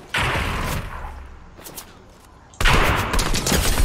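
Fortnite gunfire comes in two loud, close bursts of rapid shots, the second longer and harsher, with quieter game sounds and a faint voice in the gap between them.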